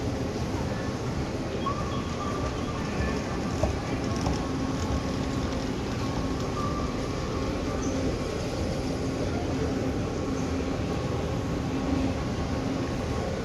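A Dubai Metro train at Union station, a steady low rumble and hum of the underground railway with faint mechanical tones throughout, continuous and fairly close, with no clear talk.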